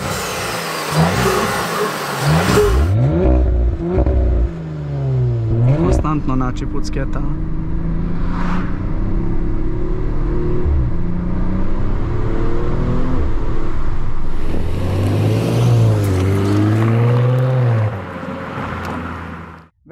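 A 2021 Audi RS5 facelift with a 2.9-litre biturbo V6 producing 450 hp revs hard in repeated rising and falling sweeps, loud and close, with someone speaking over parts of it.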